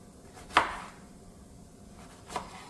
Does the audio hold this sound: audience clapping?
no